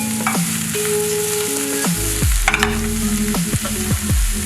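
Mushrooms for a pizza topping sizzle in a hot pan while being stirred, a loud, steady close-up fry with clanks and scrapes of the utensil.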